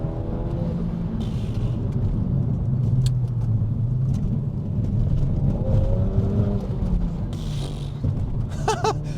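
A Renault Megane R.S. 280 hot hatch accelerating with a deep, steady exhaust rumble that rises and falls through the gears, close and continuous, with a brief voice near the end.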